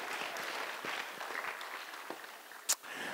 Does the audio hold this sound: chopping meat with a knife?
no